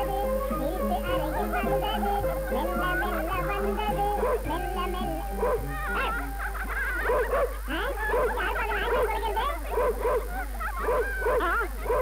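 A dog in a Tamil film scene barks and yips repeatedly for twelve seconds, the calls growing busier and more excited toward the end over a steady low hum and music.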